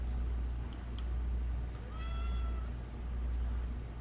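A cat gives a couple of short, faint meows, then a clearer drawn-out meow, all over a loud, steady low hum, with no talking.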